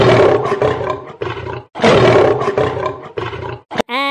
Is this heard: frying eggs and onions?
no